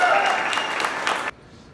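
Audience applause at an expo event, a short burst of bright clapping with some voices mixed in, stopping abruptly into near silence.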